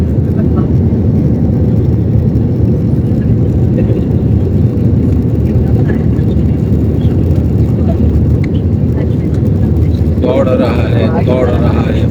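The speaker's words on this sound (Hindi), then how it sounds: "ये जहाज़ को आप देख लें, सऊदी एयरलाइन का जहाज़ है जो हमको रियाज लेके जाएगा। पीछे से भी आप देखें, ये जी जहाज़ हमारा रनवे पर चल पड़ा है।" Loud, steady engine roar and whir from inside a Saudi Airlines passenger jet taxiing on the runway at Medina airport, continuous throughout, with a brighter hiss rising near the end.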